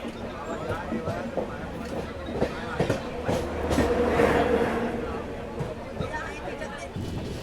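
A Duronto express train rolls into Pune Junction, its wheels clattering over rail joints with rhythmic clicks and thumps beneath a steady rumble, while people talk nearby.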